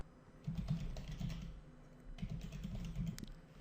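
Quiet, close typing on a computer keyboard comes in two short bursts of rapid key clicks with a brief pause between them.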